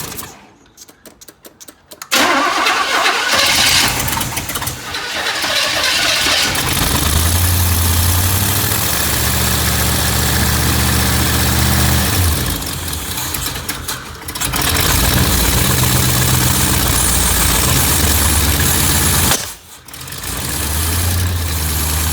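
A 1984 Chevy Blazer engine, being chased for a suspected bad fuel line, cranks with a rapid stuttering burst, then catches and runs loud and rough at close range, its low idle lurching and dipping twice before steadying.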